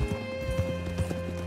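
Horse hooves clip-clop at a steady walking rhythm in Red Dead Redemption 2, close and clear over a sustained musical drone.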